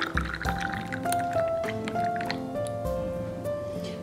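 Thickened milk is poured into a cup of Irani tea, a soft liquid trickle and fill sound running steadily under background music.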